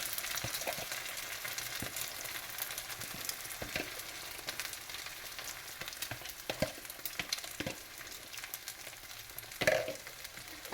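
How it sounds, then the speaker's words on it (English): Egg mixture fries over potatoes in a pan for a potato frittata, a steady soft sizzle with occasional faint scrapes and clicks of stirring, quiet and close with no voices. "get your egg mixture. Okay, give it another quick stir and pop it all over the top."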